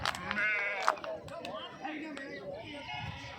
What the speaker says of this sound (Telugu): అన్ని నెల్లూరు గొర్రెలు అన్న